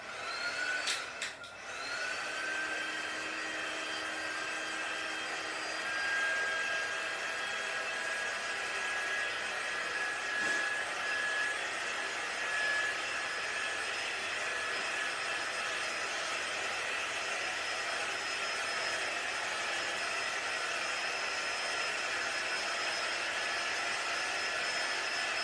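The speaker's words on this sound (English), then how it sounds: "Let me get my heating gadget, my heating tool. And I'm going to quick dry this area." A handheld heat tool blows steadily while drying paint on brown craft paper, giving a constant close whirring rush with a faint high whine. A few brief clicks come at the start.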